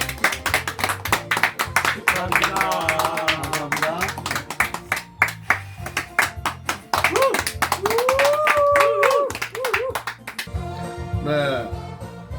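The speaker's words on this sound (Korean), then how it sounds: "박수." A studio audience claps at a show's season-ending celebration with a birthday-style cake, the applause running under loud music and someone speaking briefly.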